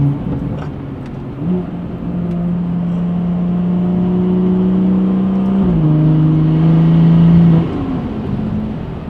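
A car with a freshly broken-in engine, the 340, drives along steadily, its engine drone rising and shifting through gears across the whole stretch, loud and close with no talking.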